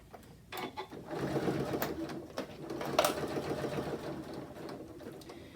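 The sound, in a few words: Janome S9 sewing machine stitching through layers of cork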